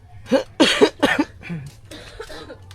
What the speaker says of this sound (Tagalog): Panay ako ubuin.